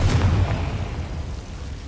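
A Confringo spell explodes in the Hogwarts Legacy video game, a short muffled boom with a deep rumble that fades over a couple of seconds, heard alone without talk.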